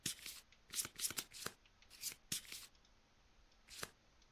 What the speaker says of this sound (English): We'll shuffle these up.